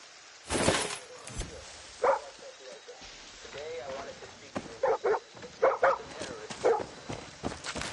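A dog in the video game Far Cry 6 gives short yips and barks in bursts, mixed with footsteps and game noise, while someone talks to it.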